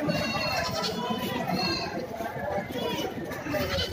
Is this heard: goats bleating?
yes